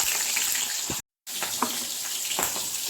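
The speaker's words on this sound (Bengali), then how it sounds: "ওই তেলের মধ্যে দিয়ে দিচ্ছি কালো জিরে কাঁচা লঙ্কা" Nigella seeds and green chillies fry in hot oil, a close, bright continuous crackling sizzle with small pops, broken by a brief cut to silence near the one-second mark before resuming.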